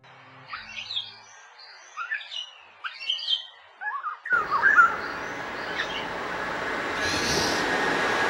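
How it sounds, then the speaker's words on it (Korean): A black-naped oriole mother gives repeated harsh alarm calls, short separate bursts near and clear in a shady oak valley. Partway through, a continuous broadband rumble like a passing train rises up and partly covers the calls. "꾀꼬리 어미는 새끼들이 다칠까봐 미리 겁먹고 캐액 캐액 하고 경계음을 낸다"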